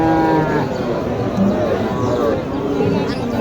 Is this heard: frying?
no